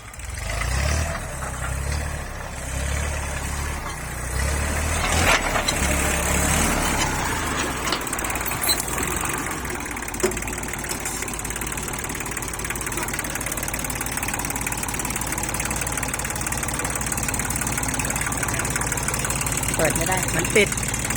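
A steady used tractor engine idles throughout with a low, rumbling drone and faint vibration, continuous and fairly close, with a voice speaking briefly over it.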